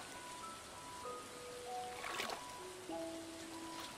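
Steady rain falls across a farm in Stardew Valley, a soft even hiss that holds for the whole stretch while light game chimes and tones ring over it.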